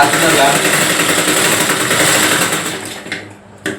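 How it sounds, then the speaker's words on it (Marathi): A sewing machine runs in a fast continuous whir while stitching around the hem of a child's frock, loud and close, then stops, leaving a couple of brief clicks. "अशा प्रकारे आपली खाली पूर्ण अशी गोलपणे सगळी शिलाई गोल मारून घ्यायची आहे."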